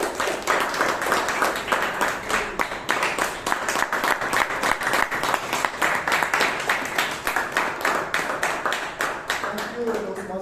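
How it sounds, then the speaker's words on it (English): Sustained audience applause fills a Toastmasters club meeting room in Bangalore as the president is welcomed to the stage, dense steady clapping from many hands throughout, close and loud, tapering slightly at the end. "I think you deserve another huge round of applause"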